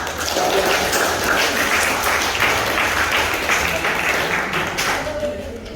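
A classroom of students claps together in Indonesia, a dense, steady wash of applause lasting several seconds before easing off slightly at the end.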